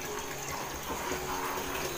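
Water from a household supply runs steadily in the distance as a soft, continuous rushing hiss with no talking.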